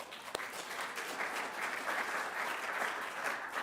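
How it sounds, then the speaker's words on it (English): Steady applause from a seated conference audience at the close of a session, a dense even patter of clapping heard from a distance with one sharper nearby clap early on, no voices. "a round of applause for yourself"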